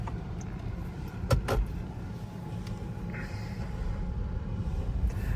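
A 2021 Chevy Bolt EV on the move, with a steady low road and cabin rumble throughout and a couple of brief clicks or knocks near the start, no talking.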